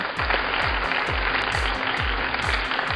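Audience applause at a cooking competition prize announcement, dense steady clapping sustained throughout, with a repeating low thumping beat of music running underneath.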